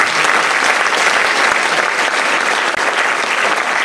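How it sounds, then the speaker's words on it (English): A room full of people claps loudly and continuously, a dense even wash of applause with no pauses. "Have a round of applause."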